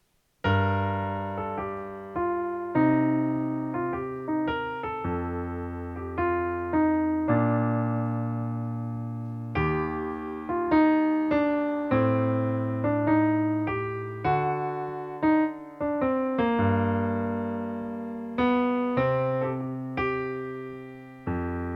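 A piano plays a melody over a low bass line, notes struck at a moderate pace with sustained decays, clear and solo with no voices.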